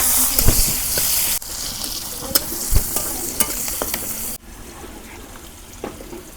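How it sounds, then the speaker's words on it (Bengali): Pieces of large silver carp fry in oil with chopped onion, giving a steady sizzle punctuated by sharp stirring clatters and scrapes, close and fairly loud. "মাছ ভাজা হচ্ছে, এখন আমি মাছগুলো ভুনা করুম"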